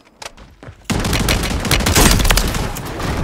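Riveter shotgun fire in Call of Duty Warzone: a couple of sharp shots at first, then a dense run of loud rapid blasts with heavy low-end booms.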